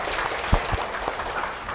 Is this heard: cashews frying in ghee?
no